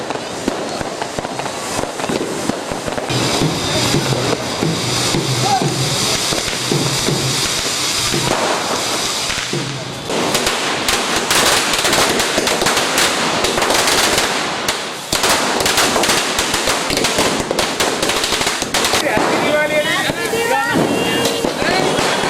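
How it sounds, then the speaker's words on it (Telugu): Firecrackers burst continuously at a Diwali celebration with family, a dense loud crackle of rapid pops and bangs running the whole time, with a few brief lulls and voices mixed underneath. "ఆ తర్వాత కుటుంబ సభ్యులతో కలిసి టపాసులు పేల్చారు"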